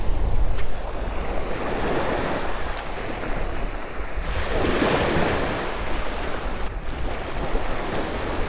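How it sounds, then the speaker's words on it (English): Ocean surf on a beach, waves washing in continuously with broad rushing swells and gusts of wind noise across the microphone, steady and fairly loud with no voices. "We've got a little bit of wave action."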